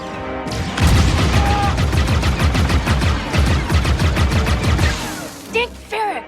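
Rapid blaster gunfire from Star Wars Outlaws video game combat, loud repeated bursts in quick rhythmic volleys for several seconds, followed by brief electronic game sounds and a short voice near the end.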